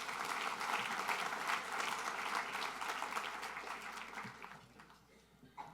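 An audience at a Jewish Community Relations Council event breaks into sustained, dense applause that carries on steadily for several seconds and then fades.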